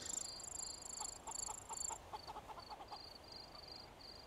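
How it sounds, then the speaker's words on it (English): Chickens in a survival game cluck in short repeated bursts, a quick irregular rhythm, faint and alone against a high ambient tone. "those chickens having a good old chuckle"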